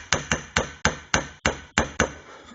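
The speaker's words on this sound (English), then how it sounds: "Just tapping very gently." A table saw gear is tapped gently into a plastic part, eight close, evenly spaced light hammer taps, each a sharp knock with a short decay.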